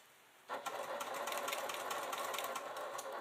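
A sewing machine starts up and runs steadily, stitching a seam on a quilted leather clutch, a fast even mechanical whir with rapid needle ticking, close and alone.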